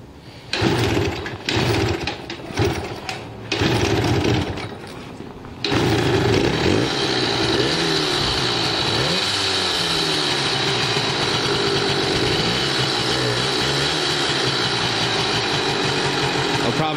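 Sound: old engine starting and idling

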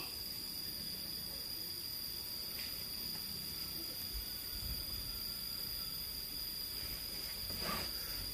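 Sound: cicada buzzing

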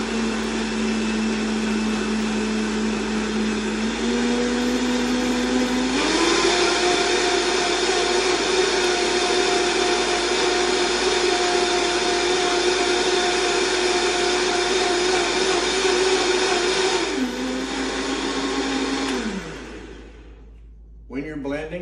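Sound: blender blending dried red chilies, garlic, onion and chicken stock

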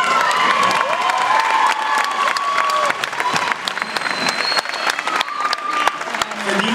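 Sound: applause

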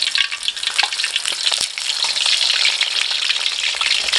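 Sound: fish frying in a pan, being flipped

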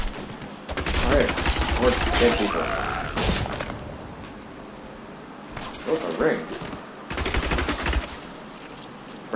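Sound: shooting in Diablo 3 video game

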